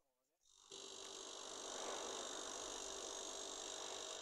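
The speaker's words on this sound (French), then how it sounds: "nous pouvons entendre à ce moment-là que le moteur" A refrigerator compressor motor starts up with the thermostat bypassed and settles into a steady, continuous hum with a bright whine, running close and even after a short quiet moment.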